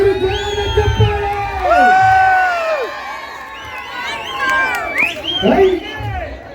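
A dance academy audience cheers and whoops loudly after a Kannada film song dance performance, with high shouts and crowd noise over music and voices, and some clapping mixed in.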